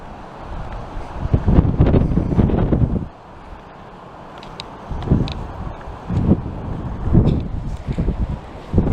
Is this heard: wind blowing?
yes